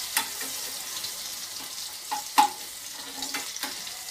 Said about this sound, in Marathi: लसूण खरपूस भाजून घ्यायचंय